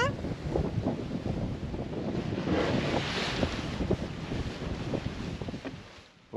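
Steady wind rushes over the microphone while waves wash and slap against the hull of an Outremer 55 sailing catamaran on open water, a continuous loud roar that cuts off abruptly at the end.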